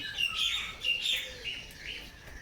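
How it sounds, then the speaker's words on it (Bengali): Birds chirp and call continuously at a moderate distance under cloudy skies with light drizzle falling, high thin tweets overlapping over faint outdoor background noise. "আর চারিপাশে দেখো পাখি ডাকছে"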